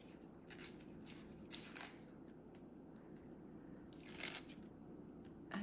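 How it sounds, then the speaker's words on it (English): Paper rips off a roll in a few crisp, quiet tearing and crinkling bursts, close to the microphone, with no one speaking. "And then I'm going to tear my paper off."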